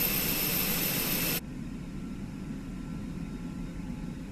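Airbus A320 jet engines whining while taxiing in a Fenix A320 flight simulator game, a bright, steady whine that cuts off abruptly to a quieter, lower, continuous engine hum.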